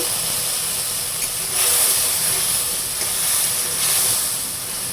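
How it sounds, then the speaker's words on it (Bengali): A snakehead fish head sautés in hot oil with onion, turmeric, chili powder, garlic and salt, giving a steady, loud, close sizzle and hiss that swells slightly at moments. "তাই মাথা দিয়ে দিলাম পেঁয়াজ, তেল, হলুদ গুঁড়ি 1 চামচ, মরিচ গুঁড়ি 1 চামচ, রসুন 1 চামচ, লবণ আধা চামচ দিয়ে ভালোভাবে কষিয়ে নেব।"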